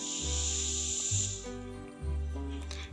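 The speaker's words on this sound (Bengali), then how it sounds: "সজনে ডাঁটা আর আলুটা খুব ভালোভাবে মশলার সাথে একটু কষিয়ে নিচ্ছি" Drumstick pieces and potatoes being sautéed with spices in a pan give off a steady, close sizzling hiss that swells and eases in waves over a low hum.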